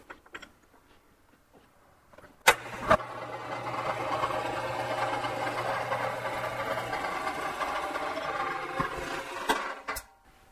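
Metal lathe chamfering the edge of a copper disc for a water tank, a steady mechanical whir and cutting hum running for several seconds between sharp clanks at the start and end, fairly close, with no talking.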